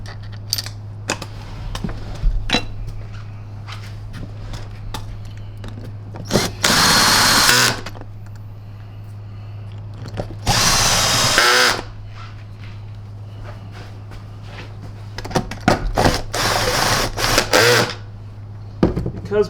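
A power driver works screws on a Tristar EXL MG CS canister vacuum cleaner, with several bursts of loud motor whir between quieter clicks and handling clatter over a steady low hum.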